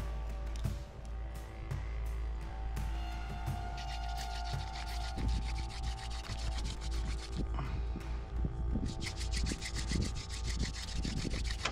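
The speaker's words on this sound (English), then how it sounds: "Rub this together fast enough and you're gonna get an ember, a light here." Green wooden sticks rub rapidly together in a hand-drill friction fire on an island, making a continuous raspy scraping with small irregular clicks and creaks, close by with no talk.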